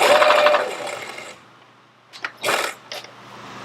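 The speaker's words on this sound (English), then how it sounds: "Do a little back stitch here at the end so that when you're stuffing the pillow or the mattress pad inside," A domestic sewing machine runs a steady, close burst of stitching while back stitching the end of a pillowcase seam for a pet bed, then stops, followed by a few short separate whirs and clicks.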